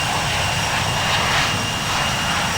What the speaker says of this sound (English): it sounds like a cheetah catching its breath more than engines